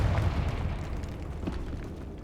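A Confringo fire spell bursts in a tomb in the video game Hogwarts Legacy: a loud, deep explosive boom that rolls into a low rumbling tail.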